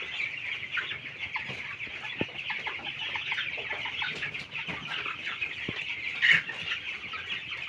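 Paragon broiler chicks in a poultry farm shed chirp and cheep continuously as a dense, steady chorus of many birds, with a few sharper peeps standing out near the end.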